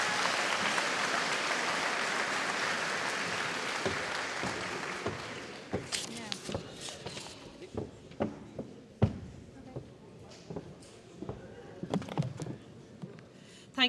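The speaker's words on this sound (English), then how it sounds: "one massive round of applause for Mr. Crowley and Class Parks" At a school graduation ceremony, a dense round of audience applause fills the hall, then thins into scattered individual claps, shuffling and small knocks with faint talk.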